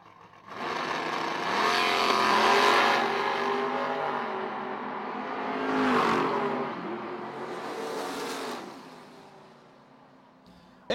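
Two drag race cars, a 1969 Chevrolet Nova and a truck called the Love Truck, launch down the strip with loud roaring engines that surge, ease off, surge again and then fade away.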